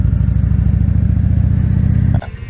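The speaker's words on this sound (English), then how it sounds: "Hear the engine of my motorcycle just throbbing in the background here." A motorcycle engine idles close and loud with a steady low throbbing pulse, briefly interrupted by a clatter near the end.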